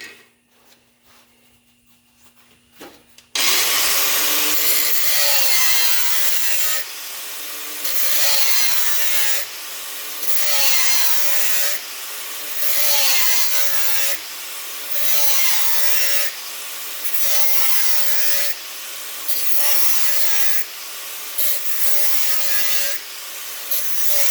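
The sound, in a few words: cutting wheel cutting a body mount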